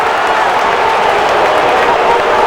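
A football stadium crowd roars steadily after a quarterback sack in a Packers at Buccaneers game, a loud, continuous wash of cheering and noise from a distant mass of fans.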